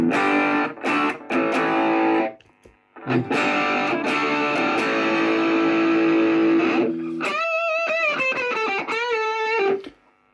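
An electric guitar plays through a Boss DS-1W distortion pedal, heavily distorted chords ringing out in sustained bursts, then a brighter lead line of bending single notes. The guitar is loud and close and plays alone.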